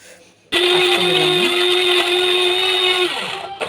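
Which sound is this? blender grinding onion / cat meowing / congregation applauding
blender grinding onion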